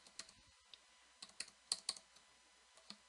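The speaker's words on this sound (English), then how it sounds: "We'll type in new tab there." Keystrokes on a computer keyboard, a quiet irregular run of about a dozen soft clicks with short pauses between bursts, close by and with no talking.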